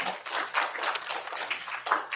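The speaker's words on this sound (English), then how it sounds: "let's try not to do the applause" Scattered hand clapping from an audience in a city council meeting chamber, a brief ragged burst of claps with no speech over it.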